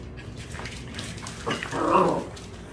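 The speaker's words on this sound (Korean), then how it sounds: "강아지가 오르렁했어" A Dachshund puppy lets out a short, low growl and whimper close by on a slippery floor, with a quiet stretch before and a brief louder rumble near the end.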